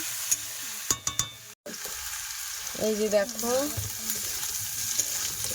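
Banana and potato pieces with salt and turmeric fry in plenty of oil in a wok, making a loud, close sizzle with a few sharp utensil knocks; someone speaks briefly over the frying.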